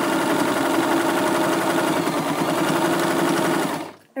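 A sewing machine runs continuously at high speed, sewing fabric down with a loud, steady whirring hum that cuts off abruptly near the end.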